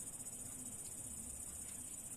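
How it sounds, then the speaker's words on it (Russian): Crickets chirp steadily at night in a faint, continuous high trill with no voices. "Стрекочет."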